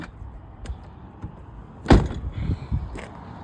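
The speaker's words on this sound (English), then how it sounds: "this is how you open the door anyway" A car door with its interior trim panel removed is worked open: scattered mechanical clicks and rattles, then a louder clunk of the latch releasing, followed by a few looser knocks, close up.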